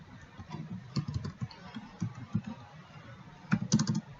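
Someone types on a computer keyboard while building an MS Access form, delivering quiet irregular bursts of key clicks with short pauses and a faster flurry near the end.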